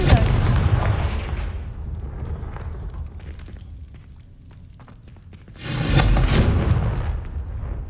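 Confringo fire spell in Hogwarts Legacy: a heavy booming blast opens, fades into scattered crackles and quiet, then a second loud explosive burst erupts near the end, close and forceful.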